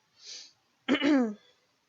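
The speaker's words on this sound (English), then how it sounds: "I need a cough." A single short, voiced cough from someone with a dust allergy, close and fairly soft, preceded by a brief breathy intake.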